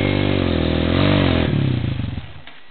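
A 1986 Yamaha DT 180 two-stroke dirt bike rides a trail, its engine buzzing loudly and close with a rising rev, then easing off into a sputtering, fading idle.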